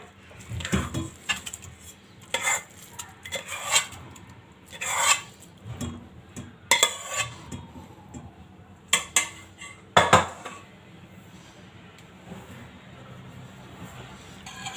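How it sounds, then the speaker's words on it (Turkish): A utensil stirs vermicelli in milk in a pot, giving repeated scraping and clinking strokes against the metal in an uneven rhythm, close and moderately loud, then fading to quiet. "bu şekilde karıştırarak pişirelim"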